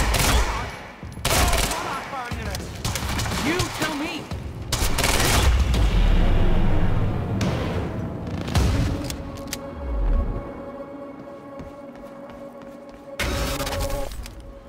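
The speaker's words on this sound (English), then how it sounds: "Oh, come on, firing at us." Bursts of gunfire and booming impacts from the video game Quantum Break, loud and dense through the first half with rapid volleys and thuds, thinning later into a sustained hum with sporadic shots; voices briefly speak among the shooting.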